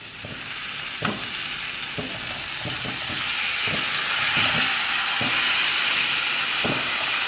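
Fish for Kerala-style meen pollichathu sizzles loudly and steadily in a hot pan, with several sharp knocks and scrapes of a turner as it is flipped, and no voices.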